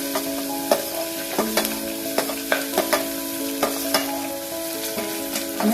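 Onion added to hot oil with whole garlic and peanuts for tuvar dal khichdi, a loud steady sizzle punctuated by repeated sharp clicks of a spoon against the pot, close and without speech.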